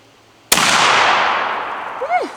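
A muzzleloader rifle fires once during a public-land deer hunt, a sharp loud blast followed by a long rolling echo that fades over about two seconds, with a brief whooping voice rising at the end.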